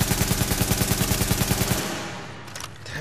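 Automatic gunfire in the shooter game The Division, a loud rapid burst of evenly spaced shots lasting almost two seconds, then a quieter tail with a few faint scattered clicks.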